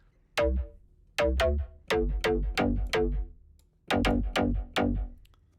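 Punchy synth bass notes from a four-on-the-floor EDM track play in short rhythmic clusters of two or three stabs with brief gaps between, each note sharp in attack and quickly decaying, with no talking.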